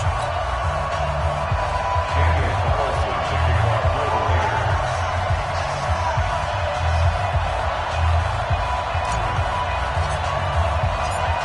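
A stadium crowd roars in an EA Sports NFL football video game before a Oakland Raiders versus Denver Broncos matchup, a dense, steady wash of cheering that swells slightly at moments.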